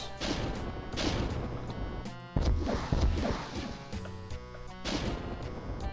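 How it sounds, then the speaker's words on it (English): Rocket launcher fire in the video game Doom 2: a run of heavy booming shots and blasts, repeated several times in quick succession over a steady game soundtrack, with no talk. "So let's pump all our rockets out."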